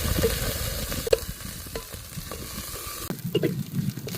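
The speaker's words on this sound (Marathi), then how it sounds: "तेल गरम झालंय. वाटण वाटण आपल्याला चांगलं परतून घ्यायचं आहे." Masala paste frying in hot oil in a pan over a wood-fired hearth, a steady close sizzle broken by a few sharp stirring scrapes and clinks, louder bubbling toward the end.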